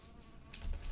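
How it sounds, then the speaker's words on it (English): Faint insect-like buzzing from bees in a modded Minecraft world, a soft steady drone that swells slightly toward the end, with no voices. "What's up, bees?"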